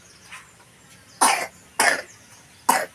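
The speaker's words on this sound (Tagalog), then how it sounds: "Inuubo si bebe." A baby coughs three times in short, sharp bursts, close to the microphone, after a faint earlier sound, with quiet gaps between each cough.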